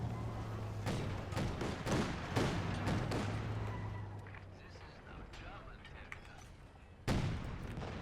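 Anti-tank guns firing in a World War II strategy game, with several heavy booming shots and thuds at intervals under continuous talking, then a sudden loud blast near the end.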